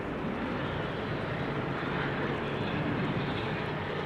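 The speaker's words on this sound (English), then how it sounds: "I'm hearing another GE90 being started" A GE90 jet engine spooling up during start at Amsterdam Schiphol Airport, producing a continuous, even broadband roar at moderate loudness for the whole stretch, with no speech over it.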